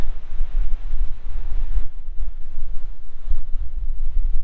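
Cold wind blowing in off Lake Huron, a steady low rumbling buffet with gusting swells throughout and no voices.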